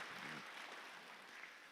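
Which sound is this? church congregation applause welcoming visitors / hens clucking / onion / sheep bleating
church congregation applause welcoming visitors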